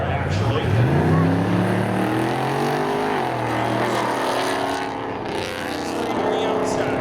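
Drag race cars at Seekonk Speedway, a 1989 Chevy Camaro and a 1988 Pontiac Trans Am, roar steadily with rising and falling engine pitch as they run, under continuous announcer talk over a loud track-side din.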